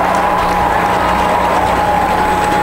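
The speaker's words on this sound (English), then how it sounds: "the true sportsman-like rugby fans that they are, cheering the underdog as they get the try after a lot of hard work" Rugby fans in a stadium applauding and cheering a try at a men's rugby final, a steady, dense wash of clapping and crowd roar that holds at even loudness throughout.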